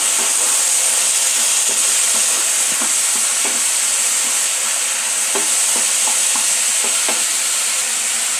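Drumstick leaves (murungai keerai) sauté in oil in a pan, giving a loud, steady sizzle and hiss broken by repeated scraping clicks of stirring throughout, with no talking.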